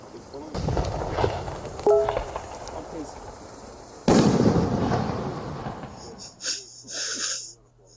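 Cartoon fireworks burst in an animated Caillou episode, two big booming blasts followed by crackling and sputtering, with a voice-like tone and a brief chime near the end.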